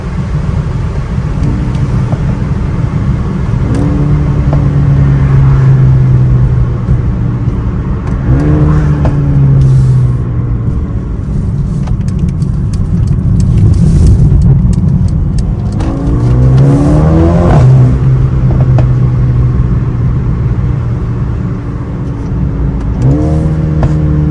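Stock 2021 Mercedes-AMG A35, 330 hp, revving and accelerating on a night drive, loud and close from inside the car, with repeated rising engine sweeps through the gears and dips between shifts, steady throughout with no talk.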